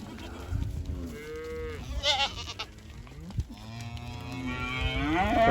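A Holstein calf and other cattle mooing on a farm with goats nearby, several long drawn-out lowing calls from close and farther animals, one after another, with outdoor farmyard noise.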